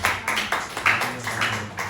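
Church congregation clapping during a Sunday service, steady rhythmic hand claps close by, moderately loud and unbroken, with no talking over it.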